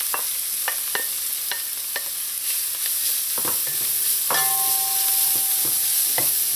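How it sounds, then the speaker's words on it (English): Onions and carrots sautéing in a pan, an even hiss of frying with repeated light taps and clinks of a utensil stirring, close and continuous without talk. "let this saute until it's nice and soft"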